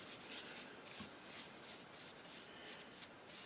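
Hand sanding of a wooden HW30 air rifle stock with 80 grit sandpaper, a quiet rhythmic scratchy rubbing in repeated back-and-forth strokes, close and faint, with no talking.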